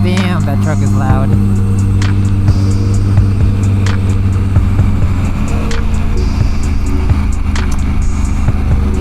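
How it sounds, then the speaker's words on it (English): A loud truck roars past a rider on a 2025 Triumph Tiger 900 Rally Pro motorcycle, its heavy engine rumble mixing with steady wind noise for the whole stretch; a voice is heard over it. "Truck is loud."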